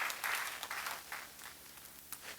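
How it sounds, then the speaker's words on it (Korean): An audience at a church seminar claps briefly, a short faint burst of applause that quickly thins out into a few scattered claps. "오케이, 박수 좀 쳐줘"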